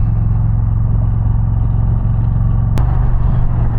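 Indian Challenger motorcycle exhaust rumbles steadily and loud while riding a Hudson River road near Bear Mountain, a constant deep drone with wind noise and a brief sharp click partway through.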